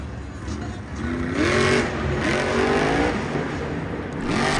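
The Zombie monster truck's engine revs at the start of its run in a Monster Jam stadium event in Arlington, rising and falling in loud surges under crowd noise and an announcer's voice.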